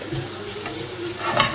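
Mushroom meatball mixture for vegetarian meatballs being stirred by hand in a bowl, a steady close scraping and squelching that builds louder toward the end, with no voices.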